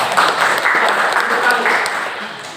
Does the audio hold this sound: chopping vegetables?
no